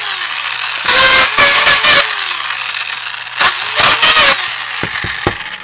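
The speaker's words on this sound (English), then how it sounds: "pull out my handy dandy distress it all and tear up the edges of my card" A Distress It All electric machine tears up the edges of a handmade Christmas card, giving several loud, harsh motor-driven bursts with a whining tone, separated by short pauses and quick final stabs.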